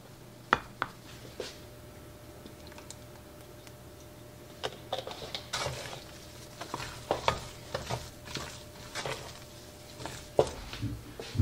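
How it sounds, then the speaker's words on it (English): Garlic and butter being stirred into potato gnocchi dough: soft scraping and dabbing strokes come in irregular bursts, sparse at first and busier later, with light clinks against the bowl. "But I wanna get that garlic and butter mixed in there"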